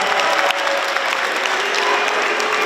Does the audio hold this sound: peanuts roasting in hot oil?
no